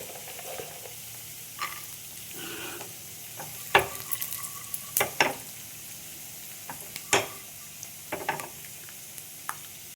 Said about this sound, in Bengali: আমি এখানে আলাদা প্যানে আমি বাদাম ভেজে নিচ্ছি।